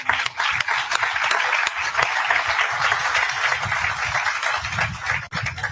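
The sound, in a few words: audience round of applause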